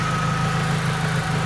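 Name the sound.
BMW Z3 1.9 engine running with mechanical fan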